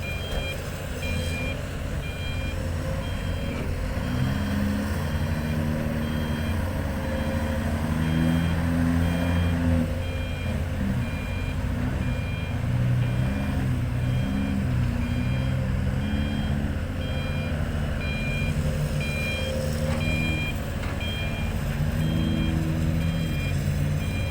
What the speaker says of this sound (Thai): เสียงท่อนี่เพาะมากเลย